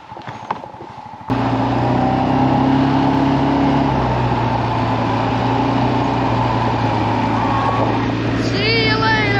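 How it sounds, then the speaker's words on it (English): Honda CBR 125 motorcycle pulling away fast on an offroad outing, a loud steady engine roar that starts abruptly and holds close, with faint voices before it begins. "Motorcycle goes fast."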